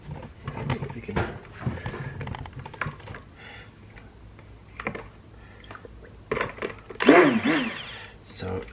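Homemade soap batter with carrier oils gets mixed toward trace, with clattering, a short loud whir of a blender near the end and a person talking throughout.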